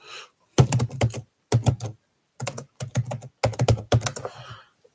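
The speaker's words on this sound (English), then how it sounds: "Okay, I got all of them typed up." Fast clatter of keys on a computer keyboard, typed in several short bursts separated by pauses, close and fairly quiet, with no voices.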